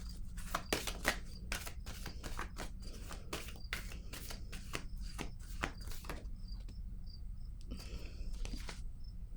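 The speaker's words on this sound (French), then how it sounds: "Je vais piger une autre carte." Tarot cards being shuffled and drawn, a fast series of sharp crisp card flicks and riffles close by, thinning into scattered softer taps near the end, with no talking.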